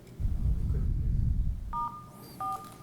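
Touch-tone dialing beeps come from an unmuted caller on the phone line during an online city council meeting: two short, clear dual-tone bursts follow a stretch of dull, muffled rumble.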